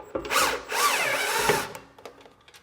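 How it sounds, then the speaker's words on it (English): A power drill with a Phillips bit backs short decorative fender screws out of a Hiker trailer in two sustained, close, whining bursts, followed by a few faint clicks as it winds down. "I'm just going to take my drill with a Phillips head and we're going to zip those out."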